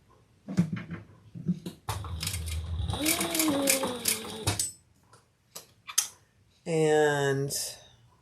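A home sewing machine stitches fabric in a few short runs, a rapid mechanical clatter of needle and gears starting and stopping close by, with someone talking between and over the bursts.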